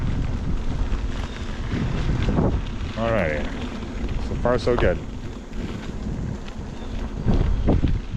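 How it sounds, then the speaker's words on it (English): Constant wind buffets the microphone with a low rumbling roar throughout while riding a Begode MCM5 electric unicycle along a bike path at about 8 to 10 mph, with a person speaking briefly over it. "It's pretty windy today too, I'm sure you can tell."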